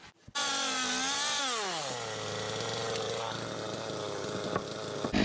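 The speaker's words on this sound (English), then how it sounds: "clean it up with the chainsaw nice and easy" A chainsaw with a small dime-tip bar cleans up the underside of a chainsaw-carved wooden bench, the engine close and loud, its pitch dropping from a high rev to a steady lower idle-to-cutting drone that runs without pause.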